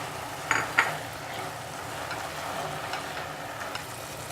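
Khoya being stirred into cooked, melted sugar for lauki halwa: a quiet, continuous soft sizzle with scraping spoon strokes, two sharp utensil clinks against the pan near the start, then gentle steady stirring with no talking.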